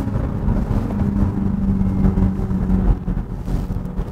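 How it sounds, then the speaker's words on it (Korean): Hyundai Ioniq 6 facelift dual-motor electric car plays its synthetic active sound design tone while braking on the road, a low steady electronic hum over cabin road noise that fades as the car slows. "풋브레이크를 밟았을 때 나오는 사운드가 좀 더 다이내믹하고 조금 더 스포츠성이 느껴집니다"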